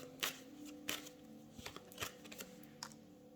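Tarot cards are shuffled in soft, quick riffling bursts with several sharp flicks spaced through a few seconds, quiet and close, with no voices.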